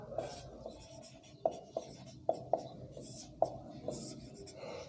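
A teacher writes on a board in a classroom, marker or chalk giving scratchy strokes and several sharp taps at an irregular pace, under soft speech.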